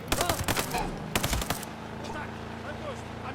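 Rapid gunfire in Ghost Recon Breakpoint, with two quick, sharp bursts in the first half, close and loud, followed by lingering engine-like rumble. Voices talk faintly underneath.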